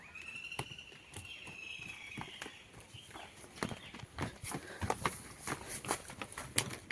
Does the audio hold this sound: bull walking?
yes